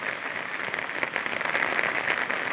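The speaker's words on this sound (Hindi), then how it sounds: "और इतना झमाझम बारिश है कि मत पूछिए" Heavy rain pouring steadily in Mizoram, a dense, even hiss of drops close by with no voices.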